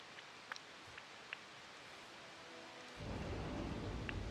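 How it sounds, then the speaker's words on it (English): In Disney Dreamlight Valley, steady rain hisses under a few faint drops, then swells into a heavier low rumble of thunder and downpour partway through, all fairly soft. "Oh, the rain is beautiful."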